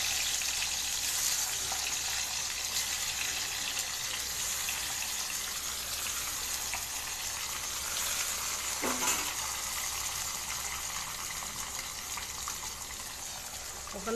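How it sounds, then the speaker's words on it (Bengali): Papaya pieces fry in hot oil in a wok, giving a steady, even sizzle that carries on for the whole stretch with little change, close up and fairly quiet. "কড়াতে তেল হয়ে গেছে গরম, আমি দেবো পেঁপে ভাজতে।"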